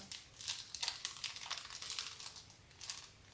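A plastic bag crinkling as it is handled up close, in irregular bursts of crisp rustling and crackling with brief quieter gaps.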